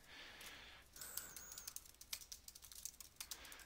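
Fast, irregular clicks from a computer keyboard as a chat message is typed, close and fairly quiet, ending in a denser run of keystrokes.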